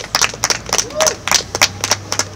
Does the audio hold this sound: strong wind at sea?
no